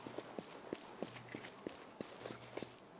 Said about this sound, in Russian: Я твои шаги прям слышал.